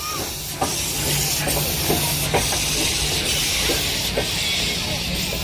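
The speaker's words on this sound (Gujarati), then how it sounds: "આ ટ્રેન આવી ગઈ છે." A heritage-park steam train pulls in with a loud, steady hiss of steam filling the air and faint rhythmic clicks from the wheels beneath it, heard close at a station platform.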